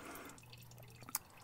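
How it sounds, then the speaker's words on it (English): Transfer case oil drips from the drain plug of a Ram 2500 4x4, a single soft drop landing amid a faint, hollow background murmur. "and while this thing's dripping,"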